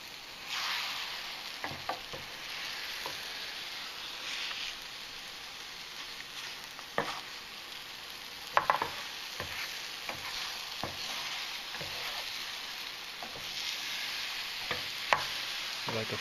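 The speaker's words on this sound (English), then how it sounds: "So you can see they're cooking up just like scrambled eggs do." Powdered eggs scramble in a hot pan with a steady soft sizzle, broken by scattered scraping clicks of a utensil stirring and turning them, close and fairly quiet, with no voices.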